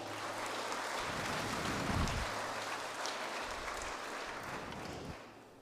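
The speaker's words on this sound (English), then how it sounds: "Give him a round of applause." Round of applause from a gala crowd at the Santa Fe Education Foundation event, a continuous wash of distant clapping that thins and fades near the end, with a few low thumps underneath.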